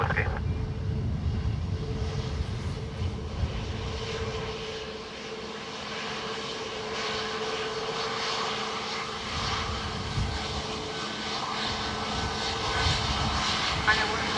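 A Spanish Air Force Falcon 900 business jet at Dublin Airport gives off a steady, moderately distant engine roar that holds throughout, under faint background noise and radio-style talk.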